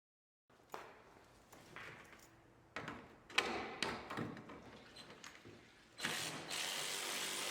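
Ratcheting clicks and metallic taps come from tools loosening the headlight bolts on a 2015 Mercedes C-Class W205, in short irregular bursts close by with brief handling thumps between.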